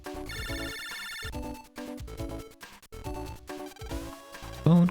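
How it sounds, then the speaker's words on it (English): A telephone rings in Mega Man Battle Network 4, with a short electronic ringtone jingle that repeats in bursts over game music and ends in a louder beep. "Phone call."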